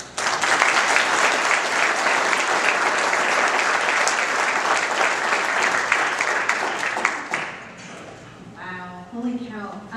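Loud, sustained applause from a crowd at an Olive Garden event in Parkersburg, West Virginia, fading out near the end as a voice begins speaking.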